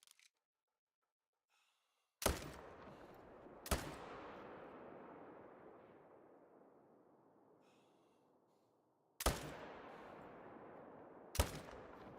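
Rifle shots in the hunting game theHunter: Call of the Wild, four loud sharp cracks, two close together early and two more later, each followed by a long rolling echo fading across open terrain.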